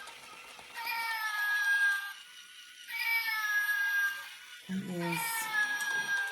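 A used toy cat from a car boot sale that meows and walks, giving three drawn-out electronic meows with a falling pitch, spaced a couple of seconds apart, while a person talks over them.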